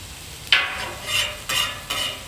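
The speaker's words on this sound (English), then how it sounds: "I'm going to mix the onions in with our vegetables" Onions being mixed into vegetables on a hot Camp Chef griddle for fajitas: a spatula scrapes and shovels in three quick strokes over a low steady sizzle, close and clear, no talking.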